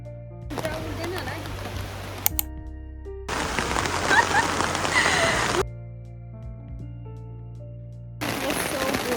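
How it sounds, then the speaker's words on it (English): Rain patters steadily on a surface in several bursts of a few seconds each, alternating with stretches of music. "Raining."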